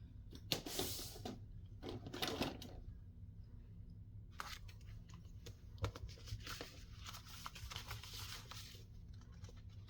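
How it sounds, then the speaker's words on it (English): A sewing machine stitching around a paper junk journal page: two short whirring bursts, then a longer steady run of rapid stitching with faint paper rustle, close and quiet. "I've got to sew around that."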